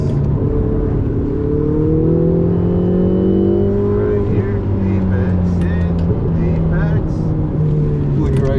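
A Ferrari sports car drives on a track in Miami, its engine droning and revving with rising and falling pitch close by, while a person talks over it.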